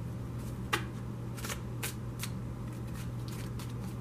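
A tarot card deck is riffled and shuffled in a quiet room, a series of soft crisp bursts of papery flutter, close and without talk.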